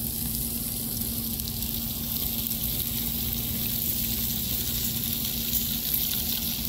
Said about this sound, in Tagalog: So ngayon ay niluluto pa namin gamit ang grill dito sa labas.